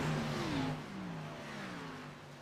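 NASCAR stock cars race three wide at Las Vegas Motor Speedway, a loud engine roar with a falling pitch as the pack sweeps past, then a steady distant drone.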